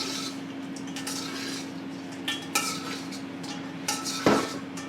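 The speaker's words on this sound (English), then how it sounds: "Stir it all up nice. So just make sure it's nice and coated." A utensil stirs buffalo wings through sauce in a bowl to coat them, with soft scraping and scattered clinks against the bowl over a steady background hum, ending in a louder knock.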